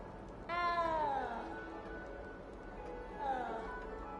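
A small cat in a video game set in a large castle meows twice, a longer cry near the start and a shorter one later, fairly close over a faint ambient background.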